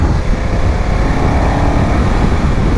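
A BMW F900 XR motorcycle engine drones steadily and loudly at close range, blended with heavy wind rush; there is no distinct rev peak, just a constant powerful rumble throughout.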